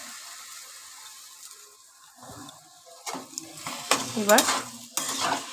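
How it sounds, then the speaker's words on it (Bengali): Mangoes being stirred in hot oil with panch phoron for a pickle, quiet sizzling at first, then louder spoon scrapes and stirring clatters in bursts, with a brief spoken word. "পাঁচফোড়ন দিয়েছি, সেটার সাথে এবার তেলের সাথে ভালো করে আমগুলোকে একটুখানি নাড়াচাড়া করে নিচ্ছি"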